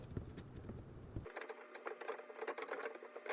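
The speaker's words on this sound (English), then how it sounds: "Again, using the multi-tool." Oscillating multi-tool blade plunging into a thin wooden vanity back during an in-wall leaky pipe repair, giving a rapid buzzing chatter that begins abruptly partway through and runs steadily to the end, close and moderately loud.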